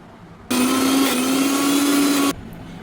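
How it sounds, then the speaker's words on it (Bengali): An electric blender purees boiled taro (kochu) for a mashed bharta, a loud, steady motor whir that starts abruptly, runs nearly two seconds close by, then cuts off, with no talking. "এবার নামিয়ে নিচ্ছি কচুগুলো মিহি করে ব্লেন্ড করে নিচ্ছি"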